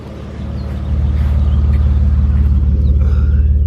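A BMW E46 with its EGR deleted idles close by, a deep, loud, steady exhaust burble with an even pulsing throb that steps up in level early on and then holds, with no talking.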